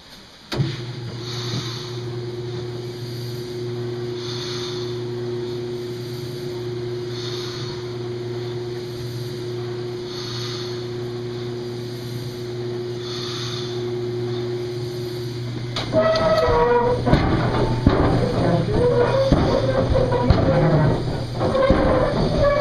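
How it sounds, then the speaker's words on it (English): Old Case steam engine powering machinery at a gold prospecting museum, a low steady hum with faint rhythmic chuffing pulses, joined later by a louder clattering mechanical rumble. "this is our old case steam engine."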